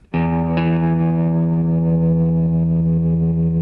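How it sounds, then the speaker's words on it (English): A sustained guitar chord rings through a Roland Blues Cube amp with tremolo engaged, loud and close, holding steady after a sharp attack with a second strum early on. "they've got a tremolo going on"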